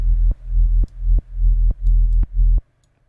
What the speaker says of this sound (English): now that sidechain is only applied to the sub, so the mid-range will not be ducked away